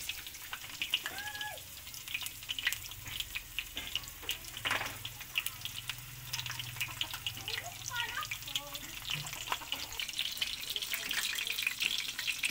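Dynamite, Filipino chili peppers stuffed and wrapped in rolls, fry in hot oil, with a steady crackling sizzle and scattered pops throughout, growing slightly louder toward the end.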